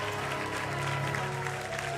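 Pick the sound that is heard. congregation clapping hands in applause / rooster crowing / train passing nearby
congregation clapping hands in applause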